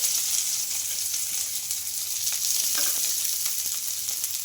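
Onions sizzle and crackle steadily in hot oil, a constant hissing fry with occasional faint pops and no voices.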